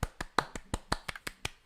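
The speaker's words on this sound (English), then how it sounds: "you guys can stop clapping your hands now." A small group clapping hands in a podcast studio, about nine sharp, separate claps spaced fairly evenly over under two seconds, close and crisp with no talk over them.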